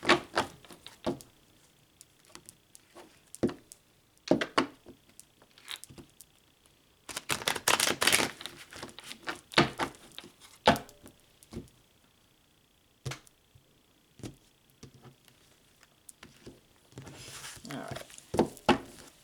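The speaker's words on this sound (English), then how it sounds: "I just want to shuffle a couple more times" Tarot cards shuffled by hand before a Libra reading, giving a string of quick close riffling clicks and soft slaps, with a dense flurry of shuffles midway and another near the end.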